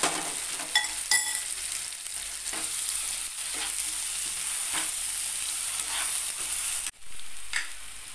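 Soybean, green chili and garlic paste fry with onions in a hot pan, sizzling steadily as a spatula stirs and scrapes through the mix in close, repeated strokes, with a brief dip near the end.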